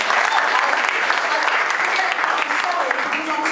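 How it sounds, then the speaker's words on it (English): A crowd claps steadily for a child's artwork, a dense, even wash of applause that holds at full strength for the whole stretch without fading. "So he deserves a clap for his artwork."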